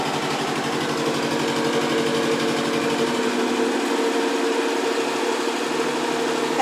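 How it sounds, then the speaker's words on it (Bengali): Generator running just outside a window during a power cut, a loud steady mechanical drone with a continuous hum and fast rattling pulse, unbroken throughout and fairly close. "আর জেনারেটরটা দেখবে আমার জানলার পাশেই, এই যে যার কারণে চলছে, যার কারণে এত আওয়াজ।"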